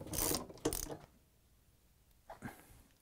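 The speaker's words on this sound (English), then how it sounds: "we can secure it with the three 13 millimeter bolts. And we're using a 13 millimeter socket wrench" A 13 mm socket wrench tightening bolts on a Samsung washer, giving a few short ratcheting clicks in two quick bursts, then a pause and another brief burst, close and fairly quiet.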